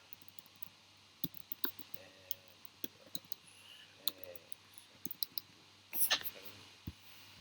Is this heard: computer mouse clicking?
yes